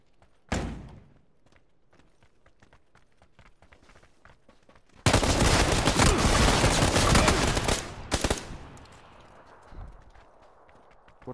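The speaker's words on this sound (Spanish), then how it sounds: "¿Por qué todos los disparos van a mi cabeza?" Rapid bursts of automatic gunfire from a PUBG match, a long loud barrage near the middle preceded by a single sharp shot and followed by a few more cracks, with no speech over it.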